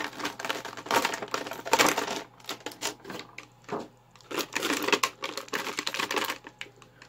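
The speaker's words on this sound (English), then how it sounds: "Let's get him out of this plastic coffin." Crinkly plastic blister packaging being pulled and torn open to free a 2020 reissue Real Ghostbusters Winston Zeddemore action figure, with irregular close crackles and snaps over a low steady hum, no talking.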